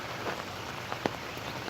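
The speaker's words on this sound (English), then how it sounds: "not when it was raining quite like this" Rain falling steadily outdoors during a morning walk among greenery and ivy, a soft even hiss of drops with a couple of closer, sharper drips, faint and alone without talk.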